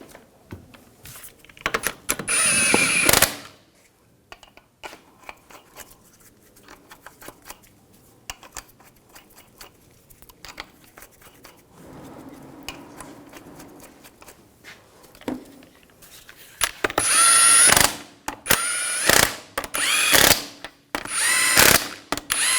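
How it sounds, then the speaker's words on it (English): Lug nuts being run onto a Hummer H3 wheel with a power tool, several loud close bursts of whirring and rattling separated by quieter stretches of handling noise. "Put the lug nuts on."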